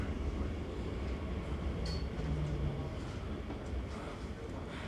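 First Crossrail Elizabeth line train pulling into a station: a steady low rumble of the rail car decelerating and coming to a stop, with a brief high squeal near the two-second mark, heard from inside the carriage with faint background chatter.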